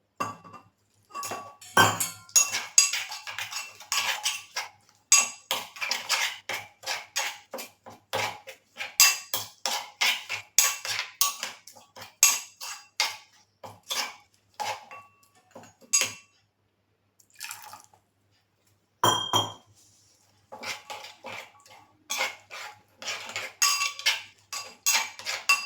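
A spoon stirring garam masala with water into a paste in a bowl, repeated close clinking and scraping strokes in quick bursts with brief pauses, no talk.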